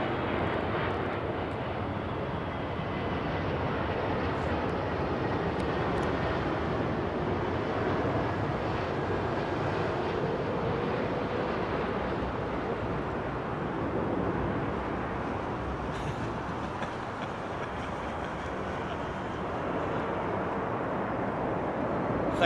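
An Airbus A380 airliner at London Heathrow Airport produces a sustained, broad engine roar that holds steady from a distance, with some wind buffeting over the microphone.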